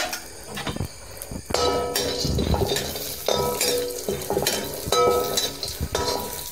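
Cashews frying in a spoonful of ghee on a low flame give off a soft, steady sizzle, broken by frequent scraping stirs and light metallic clinks of a spoon against the pan, close up and with no talking.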